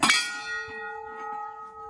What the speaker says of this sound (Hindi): और यही घंटा है